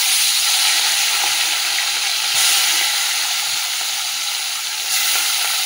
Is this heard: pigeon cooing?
no